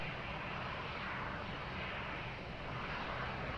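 An airplane taking off at Lisbon Airport, heard as a steady, broad engine roar that holds at an even level throughout without pause.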